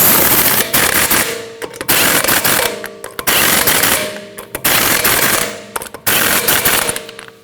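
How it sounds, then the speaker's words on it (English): Impact wrench tightening lug nuts on a Ford Escape rear wheel, five loud, close bursts of rapid hammering rattle, each about a second long, separated by short pauses. "Now tighten your lug nuts in a star pattern."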